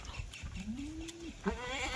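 Kathiawadi goats bleat from a goat vehicle, with one drawn-out, wavering cry followed by a shorter bleat over steady background noise.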